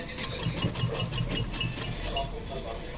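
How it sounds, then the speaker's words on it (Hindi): A sewing machine stitches fabric for a baby frock with a quick pulsing run of stitches heard up close, its motor chattering briefly with no voice over it. "अब सिलाई लगाना देखते हैं। इस तरीके से मशीन में धागा मैंने 3 नंबर पे रखा है"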